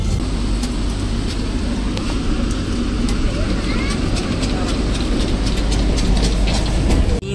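Steady low rumble and rail clatter inside a Vande Bharat Express running out from Howrah toward New Jalpaiguri, continuous and close, with faint rhythmic clicks of the wheels over track joints beneath cabin noise.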